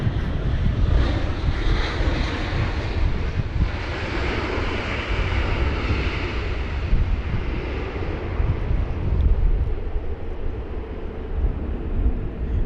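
A jet airliner landing at London Heathrow in Storm Kathleen roars steadily and loudly throughout, its engine drone mixed with heavy gusting wind buffeting the microphone, no voices present.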